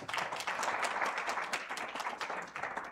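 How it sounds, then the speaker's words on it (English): A book-launch audience applauds a martial arts Shihan, a dense, continuous patter of many hands clapping at a fairly distant, moderate level, filling the whole stretch without speech. "Can you give me a big round of applause?"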